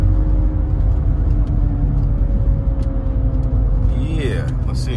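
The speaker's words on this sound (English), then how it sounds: "This is that wheel bearing loud in that thing." A car driving at highway speed with a bad wheel bearing gives a loud, continuous low rumble and hum under a droning engine. A brief chirping squeal comes near the end.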